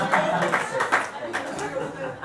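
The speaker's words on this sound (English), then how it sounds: "I think she deserves a round of applause" Wedding guests at the reception speeches applaud for the young flower girl, a steady patter of many hands clapping throughout, with murmured voices mixed in beneath.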